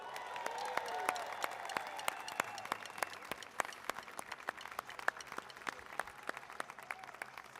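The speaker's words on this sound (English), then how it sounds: "Would you please give a big round of applause for Naila Dillard?" Audience at a Nebraska women's basketball NCAA selection show watch party applauds for a player, steady clapping with a few cheers, fairly distant and quiet, tapering into scattered claps.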